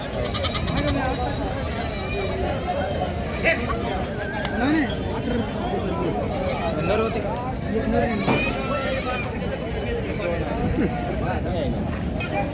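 Goats bleat repeatedly amid a busy crowd, with people chattering and talking all around in a noisy outdoor weekly farmers' market in Maharashtra.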